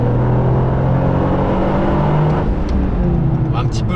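A Toyota GR Yaris engine idles in neutral with a loud, steady low hum and a few light clicks near the end, while a person talks over it.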